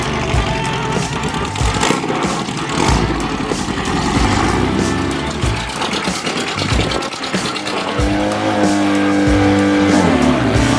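A car driven hard to test new drive shafts: loud, close engine roaring through revs, with tire squeal and skidding under a steady throttle.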